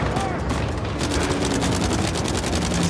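Dense, continuous gunfire and bursts in an Uncharted 4 firefight, loud and sustained with rapid overlapping shots and a roughly steady barrage, with game voices mixed in.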